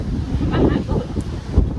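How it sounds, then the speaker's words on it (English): Gusty wind at a volcano crater in El Salvador buffets the microphone with low rumbling bursts, loud and close, rising and falling unevenly. "The gusts of wind are really bad"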